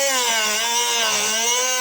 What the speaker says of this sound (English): So that's basically how you're going to cut with a Dremel.